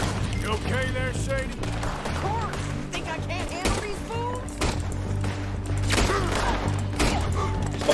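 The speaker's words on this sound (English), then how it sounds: "Told you I could shoot a gun, didn't I?" Gunfire in Red Dead Redemption 2, several sharp shots scattered through a busy game scene with music and voices talking over it.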